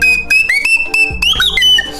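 A pipe flute in the video game Cult of the Lamb is played badly, giving a string of shrill, wavering whistle notes that wobble off pitch in short, uneven bursts.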